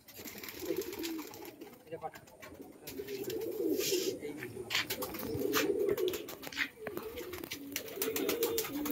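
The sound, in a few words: white pigeons cooing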